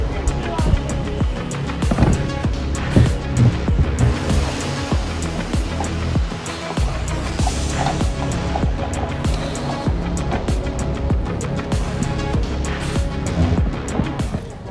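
Mercedes car driving, with a steady rumble of road and wind noise from inside the cabin, and music or voices playing over it the whole time.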